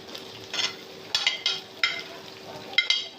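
Tomatoes sizzling in a hot frying pan for beef yakhni pulao, with a series of scraping, stirring strokes and light clatter, close up and with no talking.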